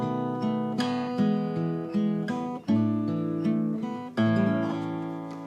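Fingerstyle acoustic guitar plays the closing two bars of the intro to a song, sustained chords and picked melody notes ringing close and clear in a slow, steady rhythm, with no talking.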